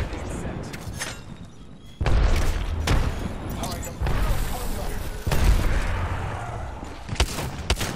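Frag grenade blasts in the video game Apex Legends, several heavy booms and thuds landing across a busy firefight, with a player talking over much of the action.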